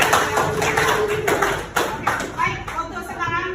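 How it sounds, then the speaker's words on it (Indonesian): A class of students gives quick, scattered applause, a loud near burst of hand claps and taps that thins out over a few seconds, with voices mixed in. "Oke, kasih tepuk tangannya."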